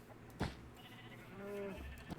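A sheep in the Minecraft video game giving short, wavering bleats, faint and quiet, with soft clicking game sounds around it and no talk.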